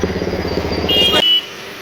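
Road traffic in a jam near Alandi during the Christmas holidays, with a steady engine rumble of cars and motorcycles close by, a brief horn-like tone near the end, then the noise drops away sharply.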